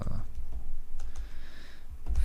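Computer keyboard typing comes as scattered soft key taps over a low background rumble, close but faint.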